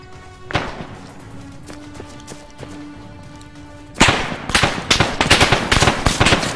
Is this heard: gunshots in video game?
yes